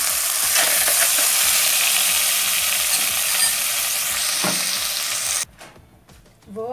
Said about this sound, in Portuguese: Aqui eu vou deixar aquecer o azeite. E vou colocar a carne.